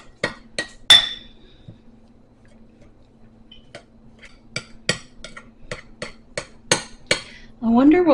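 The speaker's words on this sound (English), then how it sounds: "now we've got to mix everything together." Natural deodorant ingredients are mixed with a utensil, producing a series of sharp, irregular clinks and taps against a container in a quiet room, ending in a brief louder scrape.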